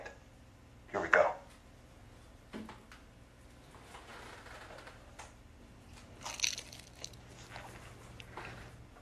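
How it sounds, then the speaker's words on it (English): Single crunchy bite into a crispy frozen pizza, one loud crackle followed by faint chewing and a later quieter crunch, close to the mic with no talking. "This is my one bite pizza review."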